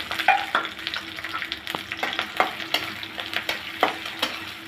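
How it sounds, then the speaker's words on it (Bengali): Chopped onion, garlic and sliced green chili fry in hot oil in a kadai, a close, steady sizzle broken by repeated scraping strokes of a spatula stirring the pan. "এর সাথে দিয়ে দেবো পেঁয়াজ কুচি, রসুন কুচি, কাঁচামরিচ ফালি একসাথে ভেজে নেব।"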